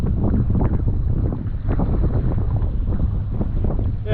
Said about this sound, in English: Wind started to pick up like this